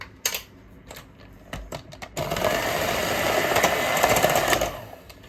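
An electric mixer starts after a few taps and clicks and then runs steadily with a loud whirring buzz, blending marble cake batter, before slowing and stopping at the end.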